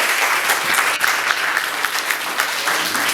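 An audience applauds pupils at a school World Book Day celebration in Diourbel, steady dense clapping filling the room with a few sharper claps standing out.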